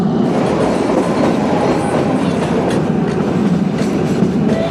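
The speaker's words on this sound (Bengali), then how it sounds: "কালকাতে এসে এখান থেকে টয় ট্রেনে জার্নি করছি" Kalka–Shimla toy train running, a steady near rumble of wheels with faint clickety-clack on the rails, continuous and loud throughout with no voices.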